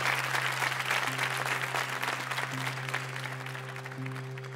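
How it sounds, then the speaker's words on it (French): A theatre audience applauds politely as the curtain falls, a dense even patter of clapping that fades slightly over a few seconds, with a steady hum underneath. "Le rideau tombe, il s'est applaudi gentiment"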